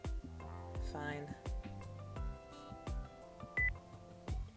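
Phone dialing in the video game A3!: a quick run of short electronic keypad beeps, each a separate tone, set against soft background music.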